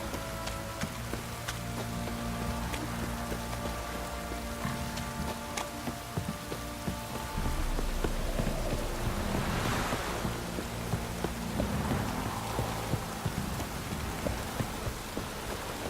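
Heavy rain pours down in The Witcher 3, a dense, steady hiss of drops with some pattering and a low wash like surf or wind, continuing throughout with no speech.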